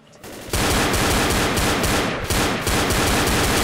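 Continuous rapid gunfire in the zombie video game Left 4 Dead, loud and dense, breaking off briefly twice before resuming.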